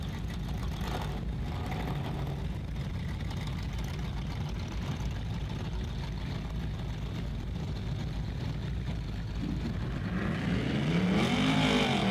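Trucks in a bracket drag race at a dragway, a distant, steady engine roar heard from the stands that builds slightly toward the end, with no voices.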